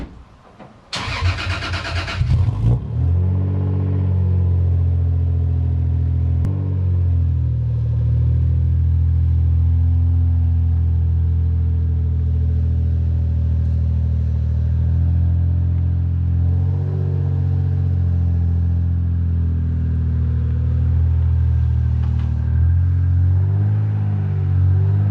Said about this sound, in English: We're going to start by taking the Supra out of the garage.